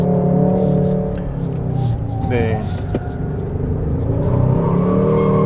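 2024 Hyundai Sonata N Line 2.5T in sport mode accelerating hard on a winding mountain road, one wheel spinning, with a steady engine drone and a brief rising chirp, heard from inside the cabin while a voice speaks briefly.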